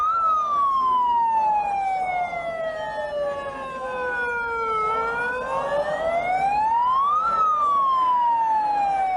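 A wailing siren played by protesters at a counter-protest sweeps down and up in pitch continuously, loud and close, with faint crowd noise underneath.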